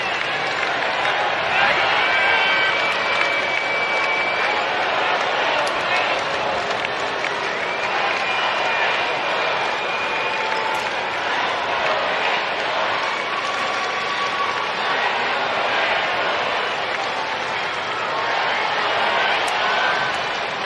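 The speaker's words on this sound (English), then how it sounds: "Chance of Let's Go Angels raining down here at the Big A." Baseball crowd at Angel Stadium during a late-inning game, with fans chanting Let's Go Angels: a steady, dense roar of crowd noise that stays at an even level the whole time.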